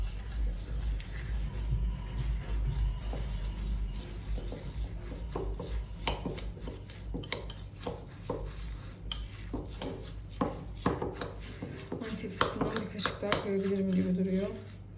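A spoon stirring a tahini mixture in a bowl for a chocolate treat, with irregular clinks and scrapes against the dish growing busier toward the end, quiet background voices now and then.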